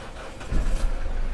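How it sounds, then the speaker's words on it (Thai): A 2016 Isuzu D-Max Spark 1.9 pickup truck engine turns over and catches, settling into a low, steady rumble close by. "อยากจะสตาร์ทให้ฟังเสียงเครื่องยนต์"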